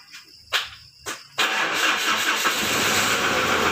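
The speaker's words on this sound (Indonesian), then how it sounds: "kita hidupkan dulu untuk mesinnya ya" A Mitsubishi Strada Triton GLS pickup engine with a rough-running fault cranks in a few short bursts, then catches and settles into a steady, loud idle close by, with no speech.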